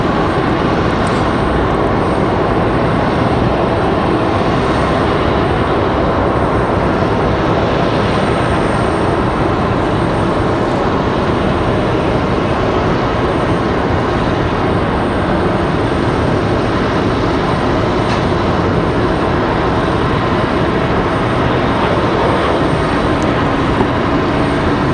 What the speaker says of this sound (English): the A319 American Airlines 2340 off